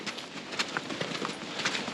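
Horses shifting and stepping in a stable, hooves clip-clopping in irregular, close, moderately loud knocks with faint background rustle and no talk.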